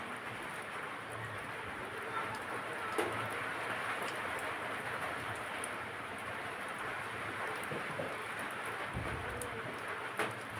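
Steady broadband hiss of rain falling, continuous and fairly even throughout, with a few faint knocks and no voices.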